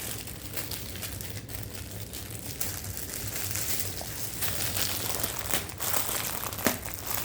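Plastic packaging around a tote bag crinkles and crackles as someone handles and tries to open it, a continuous close rustle with a few sharper crunches and no speech.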